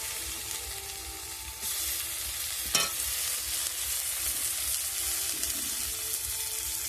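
Chopped tomatoes hitting hot oil with ginger and green chilli paste, a sustained sizzle with stirring scrapes and one sharp clatter of a utensil midway.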